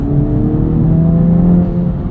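A 2024 Acura Integra Type S engine revs steadily under throttle in Sport Plus mode, a loud, continuous droning hum with a slight rise and fall, heard from the cabin with no talking.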